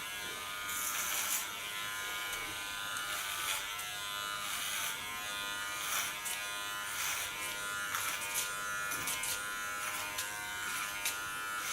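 An electric hair clipper buzzes steadily while cutting thick hair at the nape of a woman's head during an ultra-short haircut, its tone rising and dipping in short strokes.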